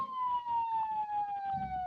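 A fire truck siren in a game city, a single steady wailing tone that slowly falls in pitch, moderately loud over a low background rumble, with no talking.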